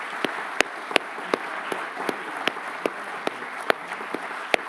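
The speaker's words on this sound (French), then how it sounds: "je pense qu'on peut les encourager par vos applaudissements" Applause at an awards ceremony for inventors' prize winners, with a sustained wash of crowd clapping under sharp, louder individual claps that stand out at a roughly regular pace near the listener.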